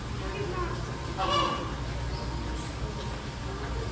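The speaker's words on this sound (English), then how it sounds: "There's a bird in there that's making a lot of noise." A bird in Key West, Florida gives a loud honking call, one prominent cry amid steady background hum and faint chatter, moderately near.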